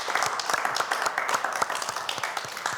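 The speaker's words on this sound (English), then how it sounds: "That deserves a round of applause" A studio audience gives a round of applause at a holiday design competition, with close, lively hand clapping packed into a continuous stream of sharp claps that holds steady for the whole stretch.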